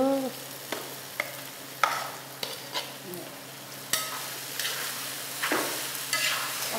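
Ingredients with garlic fry in a pan, browning lightly, with a steady sizzle under repeated sharp scrapes and clacks of a utensil stirring against the pan, close and fairly loud.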